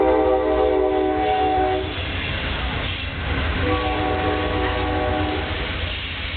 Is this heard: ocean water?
no